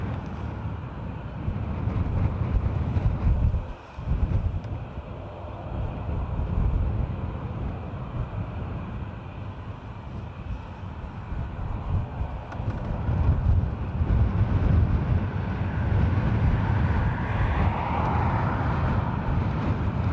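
ATR turboprop taking off from runway 28 right at Dublin Airport, a steady broadband roar with wind buffeting the microphone throughout, rising slightly toward the end as the aircraft builds power.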